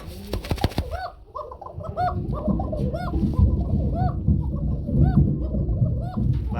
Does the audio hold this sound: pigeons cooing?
yes